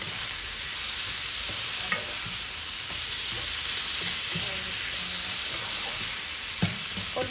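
Bitter gourd with eggs sizzles steadily in a pan while it is stirred, with intermittent soft scraping and clinks, close up, with no voices.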